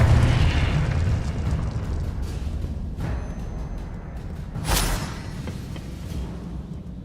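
A Confringo blasting spell explodes in the Hogwarts Legacy video game: a heavy rumbling burst at the start, then a sharp crackling blast midway amid low rolling booms and game ambience.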